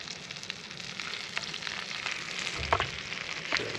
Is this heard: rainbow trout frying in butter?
yes